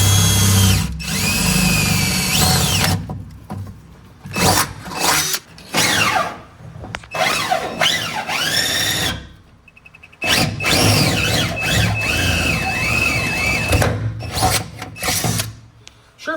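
A power drill runs at full speed in bursts on a 1971 El Camino project, whining and squealing loudly up close with short pauses between runs and brief talk.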